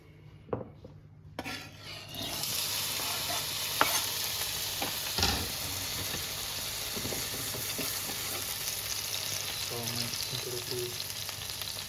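Tomatoes tipped into hot oil in a pan for a cheap Italian pasta lunch, with a loud, steady sizzle and frying hiss and occasional scrapes and clinks of stirring against the pan.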